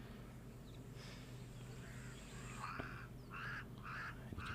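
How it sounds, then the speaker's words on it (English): Cape Crow calling in open grassland near zebra and springbok, a few harsh, rasping calls at moderate distance rising over a steady outdoor background, loudest toward the end. "Hear that Cape Crow really making a racket in the background there right now."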